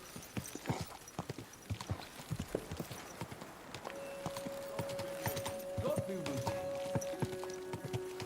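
Horse hooves clip-clopping at a steady walking rhythm in the medieval video game Kingdom Come: Deliverance II, close and fairly loud, with a horse whinny and game voices talking over the later part.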